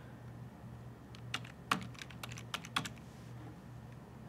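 Keys on a computer keyboard are struck in a short burst of sharp clicks over a steady low hum, nearby and fairly faint, while a search bar is used to set up flight simulator controls.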